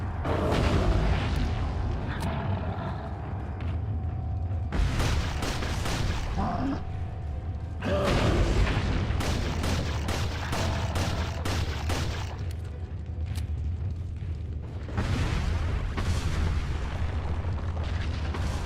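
TMP submachine gun bursts in Resident Evil 4, loud rapid rattling volleys separated by short pauses, with deep booming game sounds and background music underneath.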